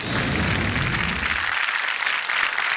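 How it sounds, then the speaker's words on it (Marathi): Loud, dense applause from a crowd welcoming a performer onstage, a continuous roar of clapping that stays strong throughout, near and filling the room. "सुरुवातीला त्यांच्या स्वागतासाठी जोरदार टाळ्या"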